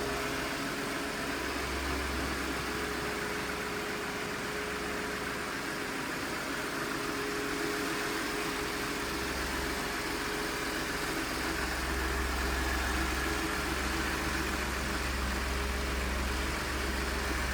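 The engine of a well-maintained 2016 Ford F-150 Lariat SuperCrew 4x4 idles smoothly and steadily nearby, a low, even hum that continues without talk.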